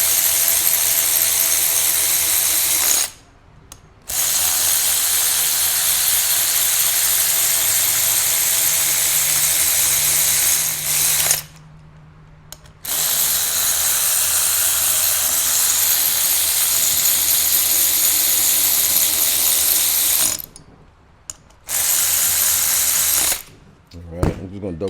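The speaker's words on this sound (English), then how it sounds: "I'm just going to run them down with the cordless ratchet" A cordless ratchet runs brake bolts down on a 69 Plymouth disc brake conversion, loud close whirring bursts of several seconds each with short silent gaps, no talk.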